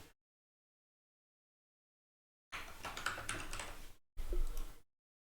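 Quick tapping on a computer keyboard while coding Python, two short bursts of keystrokes separated by a brief pause, close and fairly quiet with no talk.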